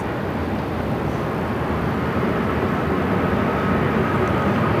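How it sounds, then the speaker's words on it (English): A WestJet Boeing 737 MAX 8 arriving from Kelowna at Phoenix airport gives off a steady, loud broadband jet roar that holds evenly for several seconds with no talk over it. "This WestJet flight is coming in from Kelowna. Kelowna. It's a 737 MAX 8."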